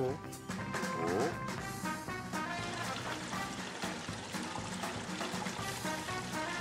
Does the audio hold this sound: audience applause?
no